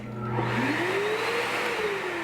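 A Festool dust extractor running steadily with a constant whirring drone, joined by a rising and falling motor whine from the connected Festool Planex sander spinning up, no talk.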